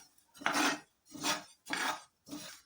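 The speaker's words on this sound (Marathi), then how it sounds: "आता आपण हे तीळ टाकून भाजून घेऊया" Sesame seeds dry-roasting in a hot pan over a medium gas flame, heard as four distinct bursts of rattling and scraping, each about half a second long with short pauses between.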